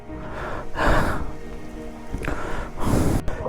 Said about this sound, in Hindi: जब बारिश की बिल्कुल ज़रूरत नहीं थी तब बारिश हो रही है।